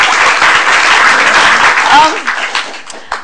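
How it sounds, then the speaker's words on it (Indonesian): A studio audience at an Indonesian talk show breaks into loud, close applause for a few seconds, with a voice speaking over the clapping as it fades. "kasih tepuk tangan dong"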